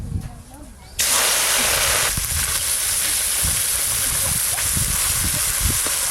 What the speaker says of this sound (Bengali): এবার ছোট মাছগুলো ভালো করে ভেজে নেব